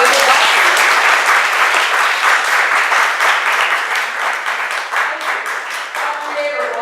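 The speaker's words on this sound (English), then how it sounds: "Let's give a hand clap to God and his doctor." A church congregation applauds loudly and steadily, dense clapping from many hands filling the room and tapering slightly toward the end.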